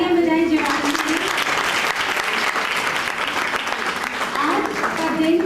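Loud, dense applause from an audience at a Mother's Day community program, sustained evenly throughout with voices rising at the start and end.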